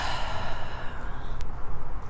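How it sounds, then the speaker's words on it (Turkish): A long, full breath pushed out through the mouth during a pilates hip mobility exercise, a steady breathy exhale close to the mic that trails off, with no talking. "ağzından nefesi sonuna kadar boşalt"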